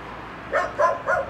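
A dog on a street in the Serbian town of Gračanica barks three times in an even rhythm, clear and moderately close, with no talk over it.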